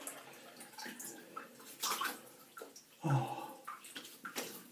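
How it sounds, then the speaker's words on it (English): Cold tap water runs as a safety razor is rinsed beneath it, a close splashing wash with a brief gurgle, and a short exclamation is heard. "Now let's have a rinse with a drop of cold"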